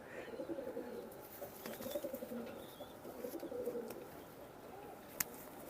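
Tippler pigeons in an Indian loft coo in soft, rolling low calls that repeat throughout, fairly faint and nearby, with a few light clicks and a sharp tap near the end.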